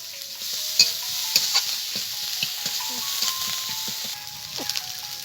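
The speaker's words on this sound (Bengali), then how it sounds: "পেঁয়াজ ভাজা হয়ে গেছে" Onions fry in oil with turmeric and salt, a constant bright sizzle broken by sharp spoon clinks and scrapes against the pan; close and loud, no speech.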